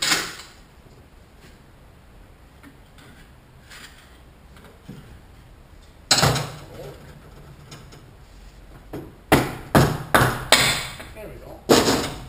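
A governor access cover on a Ford Cruise-O-Matic automatic transmission is worked loose with sharp metallic knocks, first scattered quiet taps and then a burst of several loud hammer-like strikes near the end, close up, with a voice speaking in between.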